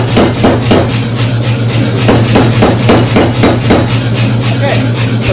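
A blacksmith's hammer strikes a cold steel bar in a quick series of metallic blows, loud and close, over a steady low hum.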